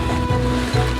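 Sea surf and rushing water around a boat out in the middle of the open sea, a steady windy wash with two low swells rising, no voices.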